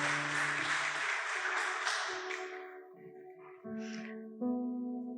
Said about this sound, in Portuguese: E as palmas louvam o Senhor Jesus.